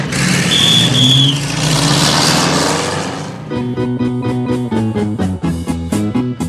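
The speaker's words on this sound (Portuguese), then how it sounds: "Eu vou correndo a 120 pela estrada, com toda a força que existe no motor." A car engine roars and accelerates along the road at high speed, loud broadband noise for the first few seconds, then gives way to a rhythmic musical passage with repeated beats.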